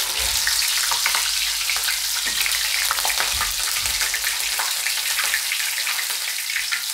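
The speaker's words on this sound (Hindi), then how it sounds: "तो अब इसमें हम ये मिर्ची फ्राई कर लेंगे।" Chillies fry in hot oil with spiced poha for corn poha chivda, a continuous close crackling sizzle with scattered sharp pops and some stirring throughout.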